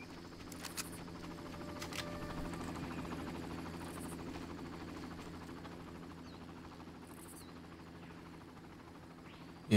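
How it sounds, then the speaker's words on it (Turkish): A helicopter approaches in the 2004 video game Far Cry, a steady rotor drone with a low buzzing hum that holds at a moderate level throughout, with no talk over it. "Helikopter geldi ama."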